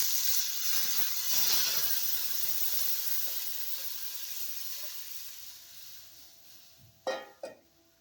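Tomato paste for tomato sambar hits a hot pan of sautéed ingredients and hisses in a steady, loud sizzle that slowly fades, followed by two sharp clinks of a utensil near the end.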